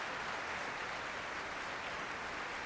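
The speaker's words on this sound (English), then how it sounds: "Mr. Ormandy steps down from the podium and bids the members of the orchestra rise and accept this applause with him" Faint, steady wash of concert-hall applause from a Philadelphia Orchestra audience after Tchaikovsky's Symphony No. 3, October 1974, heard as a distant, even broadcast roar with no voices.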